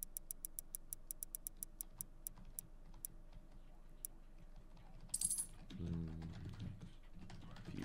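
Keyboard typing: a run of sharp, quick key clicks that slow and space out, followed by a brief clatter and a low rumble, with no speech.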